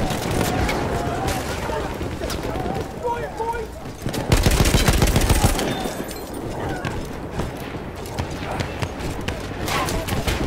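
Gunfire in Battlefield 1 multiplayer, rapid bursts of shots and heavier blasts under a player talking excitedly, with a loud cluster of explosive fire in the middle.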